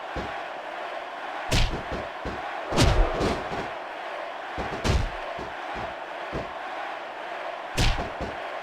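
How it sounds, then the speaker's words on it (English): In WWE SmackDown vs Raw 2006, the arena crowd roars steadily through a wrestling match, with heavy slams and thuds from the ring hitting every few seconds over the noise. "I can't remember the last time I seen a crowd so pumped up."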